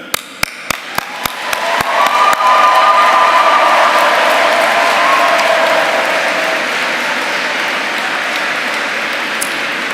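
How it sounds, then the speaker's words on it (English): Graduation ceremony audience applauding inside Canterbury Cathedral: a few scattered sharp claps swell within two seconds into loud, sustained applause that rings through the reverberant stone hall and holds steady to the end. "Will you applaud them in return?"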